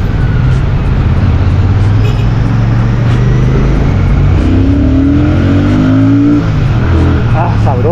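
A Royal Enfield Shotgun 650 motorcycle accelerates in city traffic, its loud steady engine drone rising in pitch near the end, with a person talking over it.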